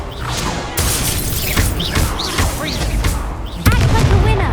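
Loud Confringo fire-blast explosions in Hogwarts Legacy boom out in quick succession, with a heavy burst near the start and another near the end, mixed with whooshing spell effects and other battle sounds.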